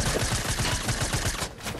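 Rapid gunfire from the video game Fortnite, a fast string of sharp, evenly spaced shots at close range that cuts off abruptly near the end.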